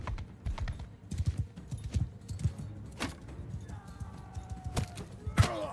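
Horse hooves clip-clop in a rapid, uneven galloping rhythm during a Bannerlord battle, fairly close, with sharp impact and weapon sounds scattered over the hoofbeats.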